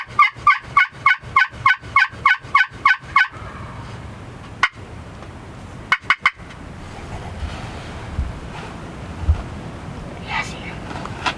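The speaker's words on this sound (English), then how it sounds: "He's just gobbling it." A wild turkey gobbles in a rapid burst of about a dozen loud, close calls, followed by a few sharp isolated gobbles over an outdoor background hiss.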